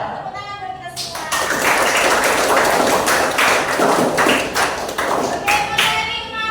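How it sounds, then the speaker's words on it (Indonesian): Students clapping in a classroom, a dense burst of applause that starts after a second and keeps going at steady loudness, with a few raised voices mixed in near the end. "Tepuk tangan buat kita semua."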